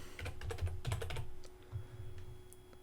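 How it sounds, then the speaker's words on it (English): Typing on a computer keyboard while building a WordPress website: a quick run of crisp, close key clicks in a short flurry, then a few scattered softer taps and a pause near the end. "I should type that in."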